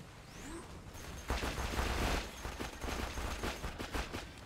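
Sustained turret gunfire in Borderlands 2, a dense rattle of rapid shots at moderate distance that swells louder midway and keeps pounding throughout.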